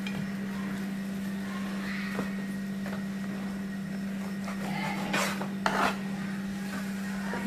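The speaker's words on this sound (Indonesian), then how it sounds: "Pertama-tama di sini saya akan potong hamnya terlebih dahulu" A knife cuts ham on a board, making soft rasping rubs and a few sharper taps and scrapes near the end against a steady background hum.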